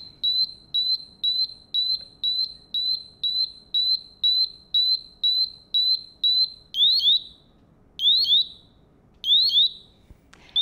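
A Honeywell BW Solo gas detector sounds its alarm, first a rapid string of sharp, evenly spaced electronic beeps, then switching to slower, longer warbling chirps for the low range tone, loud and close with no talk.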